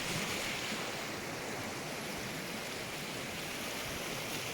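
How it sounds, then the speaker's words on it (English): Water flowing outdoors in a natural winter setting, a continuous broadband rushing wash that stays steady and fairly soft throughout, with no voices. "Listen to the water."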